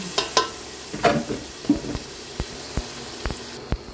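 Pepper and tomato going into a hot pan for a creamy spaghetti sauce, with quiet sizzling under scattered stirring clicks and sharp utensil taps against the pan.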